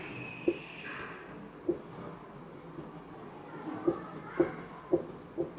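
Writing on a board during a physics class, with quiet scratching strokes and several sharp taps at irregular intervals, close and fairly soft over low room noise.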